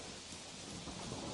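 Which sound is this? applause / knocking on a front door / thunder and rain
thunder and rain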